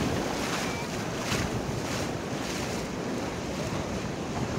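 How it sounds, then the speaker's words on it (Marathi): Big ocean waves at Anjuna Beach in Goa, a continuous broadband rush of surf and wind buffeting the microphone, with swelling crests a few seconds apart, loud and close with no voices. "लाट आलंय मोठं आहे"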